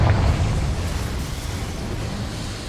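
A deep, rumbling blast from the Confringo spell in Hogwarts Legacy, loudest at the onset and decaying into a long low roar with no voices over it.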